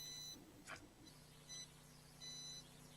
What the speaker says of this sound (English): What's with the beeping noise?